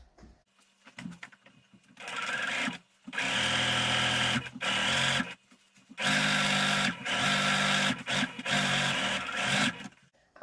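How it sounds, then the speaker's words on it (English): Sewing machine stitching the seam of a DIY pillow cover, running in several loud bursts of steady whirring separated by short pauses. "I am taking it back to the sewing machine and I am gonna"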